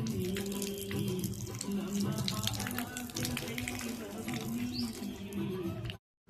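A water tap runs in a steady splashing stream while someone washes their feet at a temple, with patter on the ground nearby, faint voices in the background, and an abrupt stop near the end.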